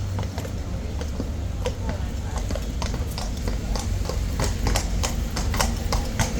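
Rhythmic clip-clop of several horses' hooves on hard pavement near Trafalgar Square, London, steady and fairly close, over a constant street rumble with faint voices.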